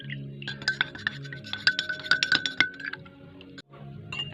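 A spoon stirs honey into calamansi juice in a glass, producing rapid bright clinks and rings against the glass in quick irregular bursts that stop briefly, then resume faintly.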